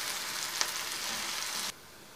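Onion fries in a pan toward golden, giving a steady soft sizzle that holds evenly and then drops away abruptly, fairly faint and close, with no talking.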